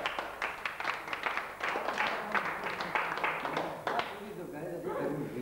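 Applause from the crowd at a 1998 village volleyball tournament in Mamusta, steady clapping lasting several seconds beneath a voice speaking over it.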